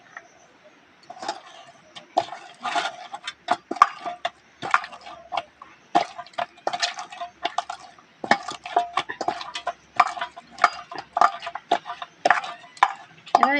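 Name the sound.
kneading cake dough with oil by hand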